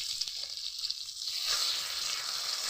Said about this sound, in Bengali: এরকম করে ভেজে নিচ্ছি